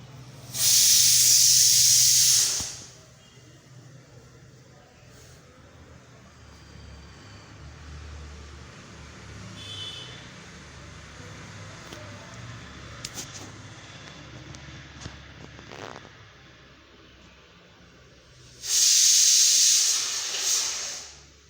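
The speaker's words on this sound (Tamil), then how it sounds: "எண்ணெய் நல்லா காஞ்சதுக்கப்புறமா காலிஃப்ளவர் வந்து சேர்த்துடலாம்." Cauliflower bajji pieces hit hot oil with a loud sizzling hiss at the start and again near the end. A faint, low bubbling of frying carries on between the bursts.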